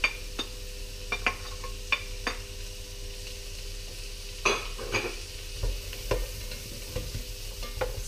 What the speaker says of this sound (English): So I'm just going to cook up my onion a little before I add some garlic.